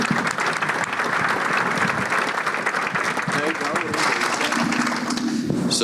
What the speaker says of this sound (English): let's please give the panel a big round of applause.